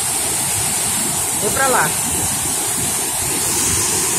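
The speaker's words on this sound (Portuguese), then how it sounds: "Olha, pessoal, que maravilha! Cachoeira da Fumaça." Roaring Cachoeira da Fumaça waterfall in Cascata, RJ, a steady loud broadband rush from start to finish, with someone speaking briefly over the torrent.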